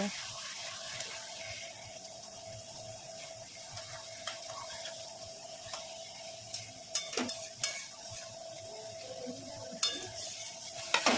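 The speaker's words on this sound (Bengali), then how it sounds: "সমস্ত মাছগুলো দিয়ে আমি একটু ভালো করে কষিয়ে নেব" Koi fish sauté in a spicy masala in a pan, a quiet, steady sizzle broken by scattered spatula scrapes and taps that grow louder and more frequent toward the end.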